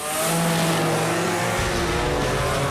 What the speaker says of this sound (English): One of the fastest cars on the strip is the Grand National.